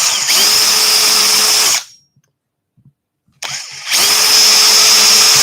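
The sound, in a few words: power drill drilling into a wooden sign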